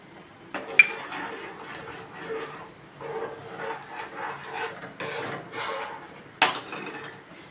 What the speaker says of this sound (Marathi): आता आपण हे दोन मिनिट सतत ढवळत राहायचं आहे जोपर्यंत हे सुकत नाही